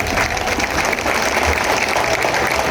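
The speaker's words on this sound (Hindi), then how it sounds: "जरा दोनों हाथ ऊपर करके तालियां बजाकर मुकुंदा का अभिनंदन करें" Crowd applause welcoming a party leader at an outdoor political rally in Purba Bardhaman, steady and dense throughout, with no pauses.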